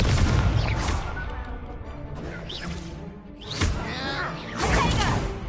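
A Confringo explosion spell goes off in the video game Hogwarts Legacy, with crashing, booming impacts over a rumbling game background and a louder burst late on.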